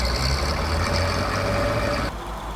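An Andoria diesel engine in a Bizon combine harvester, run cold in frosty winter weather, gets throttle and rises to a loud, steady revving drone, then drops off abruptly near the end.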